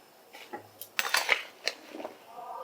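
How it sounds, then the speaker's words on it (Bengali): A small plate clatters and clinks as it is set over a wok (kadai) as a lid while hilsa fish head cooks with elephant foot yam stems. The contact is a brief, close burst of metallic dish sounds. "এবার আমি একটা ছোট থালা দিয়ে কড়াটা ঢাকা দিয়ে দিচ্ছি"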